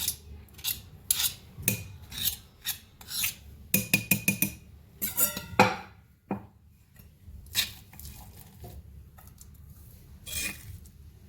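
Ground green garlic chutney, Rajasthani style, scraped out of a grinder jar into a dish with a spoon, giving a run of close, irregular scraping and tapping strokes with short pauses between them and no voices.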